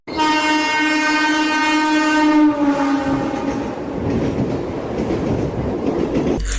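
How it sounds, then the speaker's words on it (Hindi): A Mumbai local train sounds a long, loud horn blast for about two seconds, then gives way to a steady, close rumble of the moving train with no talk. "लोकल ट्रेन की सीढ़ियों पर दरवाजे पर लटके हुए लोग"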